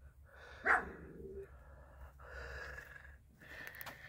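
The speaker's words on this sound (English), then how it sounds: "Get him, you little dog." A small dog lets out one sharp bark followed by a few softer huffing yips, fairly faint against a low background hum outdoors.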